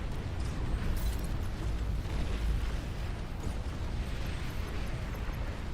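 A nuclear missile detonates in the real-time strategy game Beyond All Reason, a sustained, dense rumbling roar of explosion that fills the whole stretch at steady loudness with deep low-end weight.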